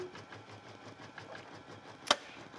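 A sewing machine winds a bobbin while stitching, giving a soft steady mechanical whir with faint rhythmic ticking and one sharp click near the end.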